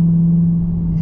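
Deep, steady exhaust rumble from a 2021 Dodge Charger Hellcat Redeye with a 6.2-liter supercharged engine and Flowmaster exhaust, a continuous low drone holding even throughout, loud and close with no talking.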